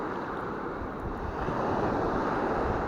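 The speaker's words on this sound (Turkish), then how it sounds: "Dalga dibine yaklaştı." Sea waves break near the shore during sea bass fishing on the coast of Mersin. A steady broadband wash of surf swells slightly louder midway, with wind noise on the microphone.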